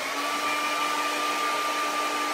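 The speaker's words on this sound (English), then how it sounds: "now what I'm going to do is just blow dry this so I can start putting a moon on there" A hair dryer blows steadily to dry wet acrylic paint on a painting, a constant close whooshing roar with a faint whine running unbroken throughout.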